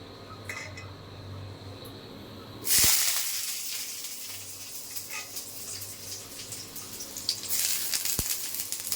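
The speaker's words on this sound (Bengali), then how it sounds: "কড়াইতে তেল দিয়ে দিলাম।" Oil poured into a wok on a lit stove, with no talking: a sudden loud hissing burst about a third of the way in settles into a steady crackling sizzle that runs to the end.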